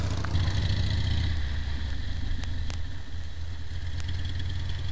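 A motorcycle engine running steadily at low revs during a slow corner, a constant close hum with a faint click or two and no talking.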